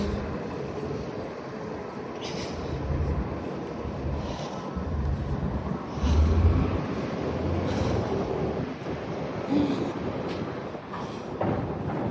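Steady outdoor wind in a residential neighborhood, a broad continuous rush with gusty swells and buffeting against the microphone, no voices.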